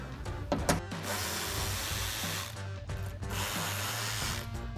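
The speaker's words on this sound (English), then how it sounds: "So next we're going to remove these 2 forward screws." A hand ratchet with an 8mm socket backs out fender screws on a 2010-2018 RAM 2500, giving steady fast clicking in two long runs with a brief break, close and moderately loud, with no talk.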